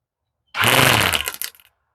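Weed eater fitted with a replacement trimmer line spool starts abruptly, runs in a loud, high, buzzing whir for about a second, then sputters and cuts off into silence.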